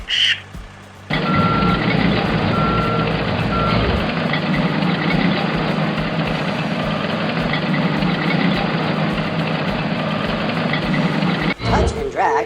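A cartoon garbage compactor truck from a bulky trash pickup game rumbles in and idles loudly and steadily, with repeated reversing beeps over the engine drone and a voice talking over it.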